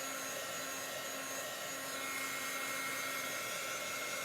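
A heat dryer blowing over chalk paste, a steady close whirring hum with constant airflow noise and faint whine tones, unbroken, with no talking.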